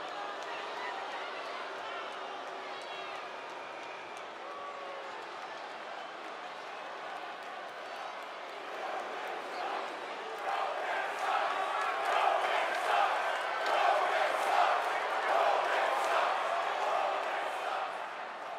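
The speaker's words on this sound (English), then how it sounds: "This capacity crowd is waiting with bated breath." A capacity arena crowd in WWE 2K22 murmurs and cheers steadily, swelling louder about halfway through, while a commentator talks over it.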